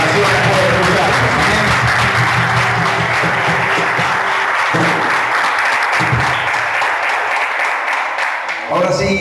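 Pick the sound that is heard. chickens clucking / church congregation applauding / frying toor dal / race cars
church congregation applauding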